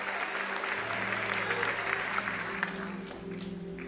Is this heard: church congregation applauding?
yes